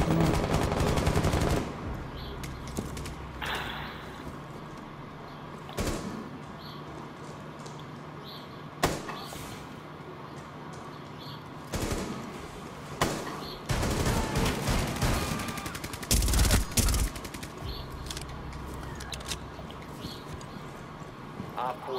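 Repeated loud shotgun blasts from an online Rainbow Six Siege match, sharp broadband bangs spaced irregularly through the round, with a few clustered volleys near the end over background game noise and a voice.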